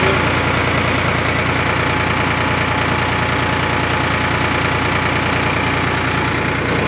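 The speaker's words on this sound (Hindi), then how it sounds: "ये फार्म ट्रैक शार्ट ट्रैक्टर है जो 11 के RPM पे चल रहा है।" Steady, loud diesel knock from a Farmtrac short tractor running at around 11 hundred RPM, powering a homemade armature pump drawing water from a deep well, a continuous close engine drone with no talk.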